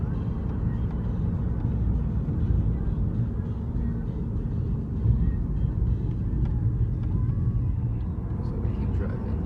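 A car drives along a road in LA, producing a steady low rumble of engine and road noise heard from inside the cabin while people talk over it.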